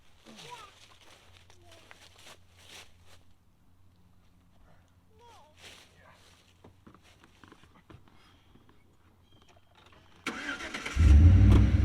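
Truck engine starting outdoors on rural property: after a long quiet stretch with faint bird calls and distant voices, the engine cranks and catches near the end, then settles into a loud, close idle.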